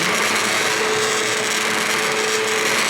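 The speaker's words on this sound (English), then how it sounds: "Just a girl and her immersion blender on a Wednesday afternoon." Immersion blender whirring steadily through homemade tomato soup, a continuous loud motor drone with no pauses or talk.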